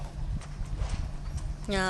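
Horse hooves clip-clop steadily in the Western video game Six-Guns, a close, rhythmic trot under someone talking, with a rising tone entering at the end.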